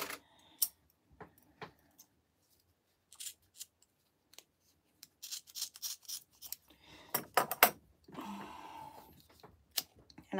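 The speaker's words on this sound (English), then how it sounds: "I am going to need this piece of webbing I need to cut in half." Scissors cutting a piece of webbing in half at a sewing table, heard as scattered crisp snips and clicks, some in quick clusters, close and fairly quiet with pauses between.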